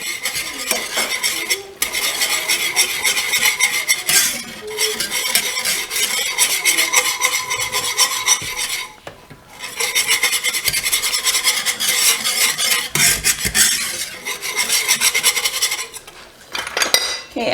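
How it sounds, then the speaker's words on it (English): A spoon or utensil scrapes steadily around a pot as grated Parmesan Reggiano cheese is stirred into sauce, making rhythmic rasping sweeps broken by brief pauses, with a faint sizzle underneath and no talking. "And then again, we're gonna stir"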